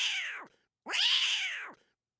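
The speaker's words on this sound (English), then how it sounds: "This cat was clearly shaken up. You could hear it." A distressed house cat meows twice just after an earthquake, two loud, drawn-out, close cries separated by a short pause.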